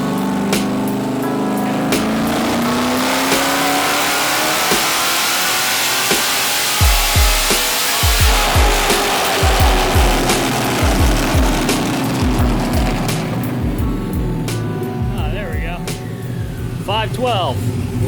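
Chevrolet C10 Squarebody truck engine on a dyno pull with the converter locked, a loud sustained roar rising in pitch, then rhythmic pulsing thumps as the run continues, with voices in the background.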